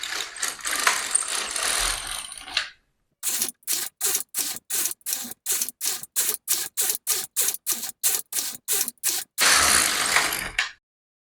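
A knitting machine carriage runs across rows of needles, giving a long whirring pass, then a run of about twenty rapid, evenly spaced mechanical clacks with short gaps, and a final whirring pass, all loud and close.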